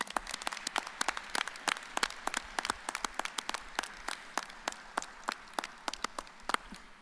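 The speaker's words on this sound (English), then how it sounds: "Graduates, please join me in giving your family and friends a round of applause." Graduation-ceremony audience applauds family and friends: a steady run of many sharp, distinct claps spread across the room, moderately loud and continuous for several seconds with no voices over it.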